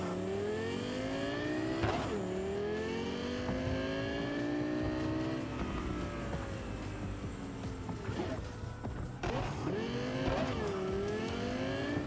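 Car engine and tires in Cyberpunk 2077 as a vehicle swerves to avoid a pedestrian, steady revving with rising and falling engine tones and brief squeals, continuous and fairly loud throughout with no talk.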